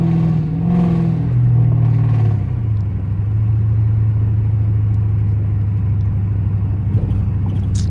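Catless RT car engine revving hard at night, a loud close rumble that climbs in pitch then settles into a steady droning cruise, with no pops clearly standing out.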